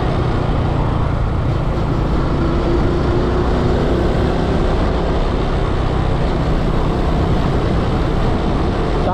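An 80cc motorcycle being ridden, heard as a constant loud engine drone mixed with road and wind roar, unbroken and steady throughout with no talking.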